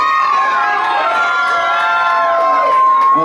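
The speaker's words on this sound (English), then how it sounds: "Who's yelling for one more song?" A concert crowd at a live show in San Diego yells and cheers for more songs, a loud sustained roar of many voices with whistles and shouts rising through it.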